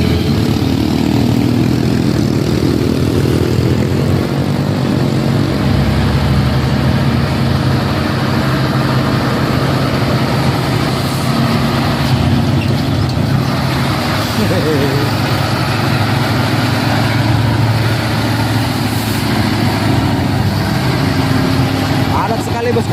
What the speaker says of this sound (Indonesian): Berbagai jenis truk melintas di sore ini ya teman-teman.